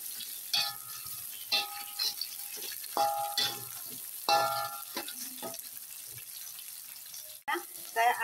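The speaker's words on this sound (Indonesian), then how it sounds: "Kita tambahkan untuk bawang bombaynya. Ini kita akan aduk-aduk pemirsa sampai dengan layu saja." Garlic and onions frying in a pan while being stirred: a low, steady sizzle sits under a person talking, with occasional soft scrapes and light clinks of the utensil against the pan.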